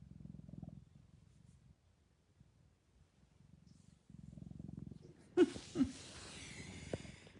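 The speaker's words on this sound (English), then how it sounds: "Can you hear him purring?" A male cat purrs close by in low, rhythmic bursts, with a brief louder snort-like sound and some rustling near the end.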